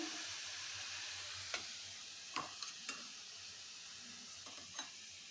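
Corn greens (bhutta shak) frying in a pan make a soft continuous sizzle, punctuated by several sharp scrapes and taps of a spatula stirring, fairly quiet and without speech.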